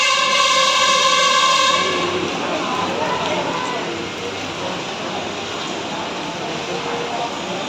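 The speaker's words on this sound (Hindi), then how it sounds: "बारिश हो रही है, बहुत बारिश हो रही है।" Heavy rain pours steadily at a railway station, a dense broadband hiss that starts loud alongside a passing train and then settles into a continuous wash.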